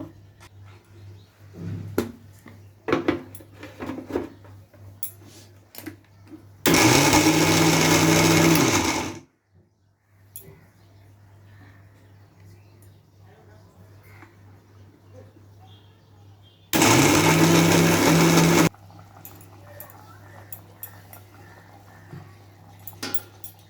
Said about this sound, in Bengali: এটা এখন আমি মিক্সিতে দিচ্ছি। মিক্সিতে দিয়ে পেস্ট করে নেব।